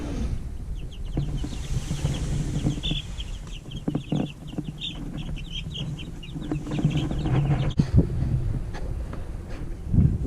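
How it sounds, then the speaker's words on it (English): Week-old meat chicken chicks cheep in a brooder, a close chorus of rapid high peeps repeating throughout over a faint windy background, with no talk. "Really happy with the chicks."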